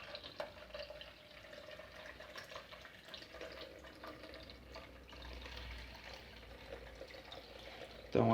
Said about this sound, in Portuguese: Então aqui já é possível observar o fluxo de água